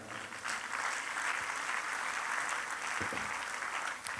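Sustained audience applause honouring Émile Kafando at a ceremony, with steady, dense clapping throughout and no pauses.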